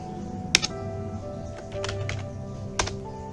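Typing on a computer keyboard, a few sharp separate key taps and a brief burst of clicking, close and fairly quiet with no voices.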